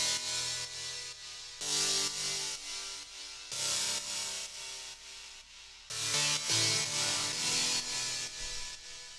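Layered synth riff built on stacked fifths, with a second copy of the same sound underneath carrying delay. It plays in loud, sustained bursts that restart at regular intervals, with repeats trailing after each phrase and no talking.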